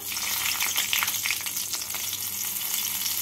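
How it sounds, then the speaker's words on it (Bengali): Green chillies and kalonji (nigella seeds) crackle and sizzle in hot oil in a kadai as a tempering. The hissing is steady and close, with small pops and occasional stirring scrapes. "তেলটাকে ভালো করে গরম করে নিয়ে এর মধ্যে দিয়ে দেব ফোড়ন, দেব কাঁচা লঙ্কা"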